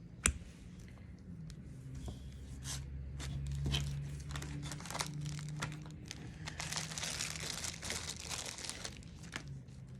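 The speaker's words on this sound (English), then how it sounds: "We are going to take our baby wipe out of the plastic bag" Crinkly rustling and clicks of a soft plastic bag as a baby wipe is pulled out, close and fairly quiet, with bursts of crumpling toward the end.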